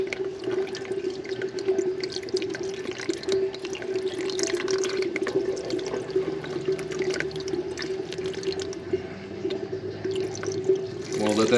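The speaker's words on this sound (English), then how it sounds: "We'll let that finish draining and then we'll put the drain plug in it." Used engine oil drains steadily from an oil pan after the drain plug is pulled, a continuous close-up liquid pour and trickle that runs unbroken for the whole stretch.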